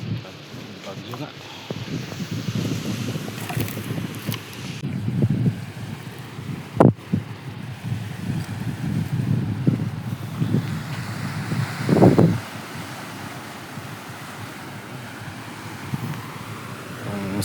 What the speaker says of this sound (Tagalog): So, malakas yung alon.